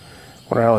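A Potensic F183DH quadcopter drone hovers in place with a steady, close whirring buzz that swells in abruptly partway through the short moment.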